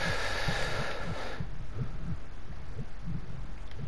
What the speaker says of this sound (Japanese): 心臓がドキドキ言ってる